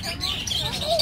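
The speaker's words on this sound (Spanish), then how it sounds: "Mira, ¿ya miraste el pato?" Small ducks at an outdoor flea market in the United States give high, thin peeping chirps, steady and fairly close over a murmur of background noise.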